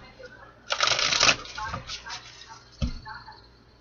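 A deck of tarot cards shuffled by hand in a reading, one brisk riffling burst lasting about half a second, then softer rustles and a dull tap, close and fairly quiet.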